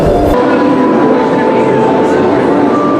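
Train at Hogsmeade in Universal Orlando, the Harry Potter theme park: a steady, loud rumble of the moving train fills the whole clip, with a low hum and faint squealing tones, while people talk over it.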